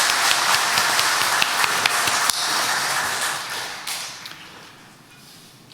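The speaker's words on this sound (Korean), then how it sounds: "박수과 박수 올려드리겠습니다" Congregation clapping during a Sunday church service, a dense steady patter of many hands that gradually thins and fades toward the end.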